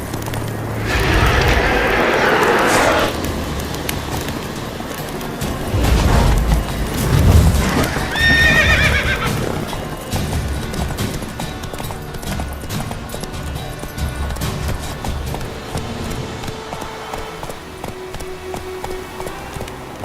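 In The Witcher 3, a horse's hooves clip-clop at a gallop and it gives a whinny partway through, with game effects and booms mixed around it and no talk.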